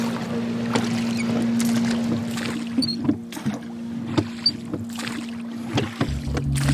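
A rowboat is rowed slowly through water in a sailing video game, with a steady low hum underneath. Soft rhythmic oar splashes and knocks come at intervals, getting more distinct toward the end, and no one talks.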